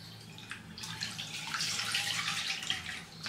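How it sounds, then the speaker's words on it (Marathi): Faint trickle of about two spoonfuls of water poured into a kadhai before milk goes in, a brief splashing rush rising midway and continuing to the end. "कढईमध्ये फक्त आपल्याला 2 चमचे पाणी घालून घ्यायचंय"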